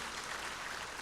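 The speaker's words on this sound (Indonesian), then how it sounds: "Kasih tepuk tangan yang paling meriah buat Tuhan Yesus." Church congregation applauding for Jesus during a service, a dense, steady wash of clapping that holds evenly throughout the moment.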